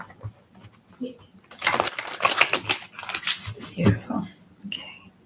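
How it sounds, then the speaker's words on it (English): Tarot cards shuffled by hand, a dense burst of crisp papery riffling and flicking that swells in the middle, close and fairly loud, with soft taps at the start and end. "One more shuffle."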